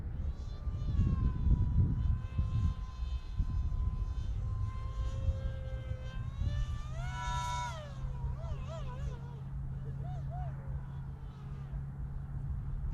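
A Mini Explorer radio-controlled model plane flies with a steady electric whine, its pitch rising and wavering in sweeping glides. Nearby outdoor voices and light wind sit beneath it.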